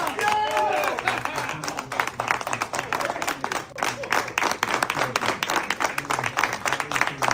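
A large crowd applauds and claps continuously as Donald Trump walks out after a presidential debate, dense steady clapping mixed with cheers and voices throughout.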